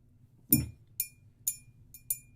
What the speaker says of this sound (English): Yeah, so you got like a glass cup, clay pots, and pitchers.